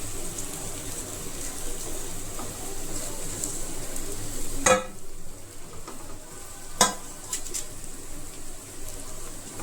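A bottle gourd mixture fries in a pan with a steady, close sizzle while a spoon stirs it, producing two sharp scraping knocks against the pan; a bird coos faintly in the background.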